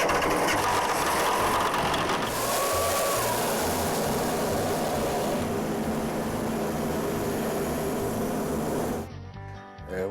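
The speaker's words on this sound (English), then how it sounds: "Check that oil every time you crank that engine, Mason." A heavy drilling rig engine, cranked after sitting unstarted all winter, runs steadily with a loud, rumbling drone throughout, then cuts off near the end, leaving quieter background noise.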